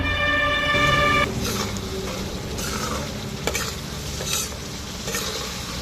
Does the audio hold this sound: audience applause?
no